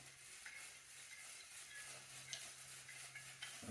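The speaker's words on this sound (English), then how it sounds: "I'm going to stir that up a little bit." A quiet, soft stir of an ice cream base of half and half, milk and egg substitute, a faint continuous swish of liquid in a container with a few light scrapes.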